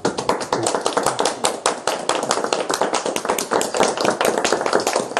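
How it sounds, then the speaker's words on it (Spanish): Church congregation clapping to welcome a visiting pastor, a loud, close burst of many hands, crisp and continuous for several seconds with no voices over it. "Vamos a darle un aplauso."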